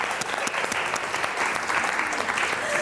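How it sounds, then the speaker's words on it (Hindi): A studio audience on a television show bursts into loud, sustained applause, with a dense wash of clapping and scattered sharper claps running continuously from start to finish. "बहुत सारी तालियां दोनों के लिए"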